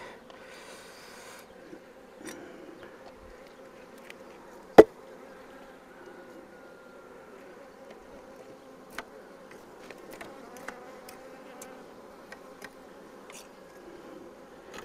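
Honey bees buzz steadily around an open wooden beehive during a hive inspection, a constant low droning swarm with occasional sharp clicks and knocks.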